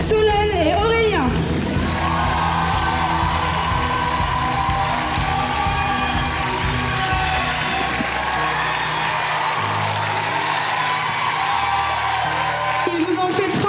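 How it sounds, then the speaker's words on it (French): A live audience at a Sherlock Holmes student musical claps and cheers loudly and continuously, with whoops and crowd noise filling the hall throughout. "merci d'applaudir bien fort Solène et Aurélien"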